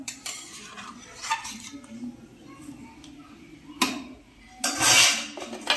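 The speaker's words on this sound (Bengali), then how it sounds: "ফুটে এলে উচ্ছে আর বড়িটা দেবো। ভালো করে মিশিয়ে দিলাম।" Metal spoon stirring bitter gourd and lentil dumplings in a pot for Bengali shukto, with clinking scrapes against the pot and a louder clatter near the end, over a low background hum.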